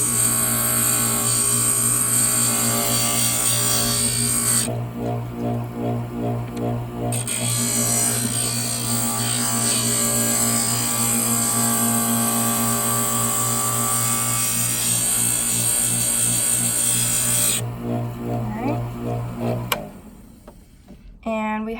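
An electric glass grinder shaping and rounding the edge of a piece of glass, a steady loud whirring hum with a brief change partway through and a stop near the end, with a voice speaking over it.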